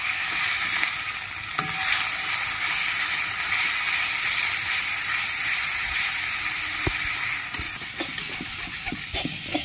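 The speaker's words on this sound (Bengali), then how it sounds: "এবার ভালো করে সব তেলে নেড়ে নেব।" Green bean bharta mixture with turmeric, salt and a little sugar, cooked with black cumin and garlic paste, sizzles steadily in hot oil while a spoon stirs it, with a few sharp scraping clicks near the end.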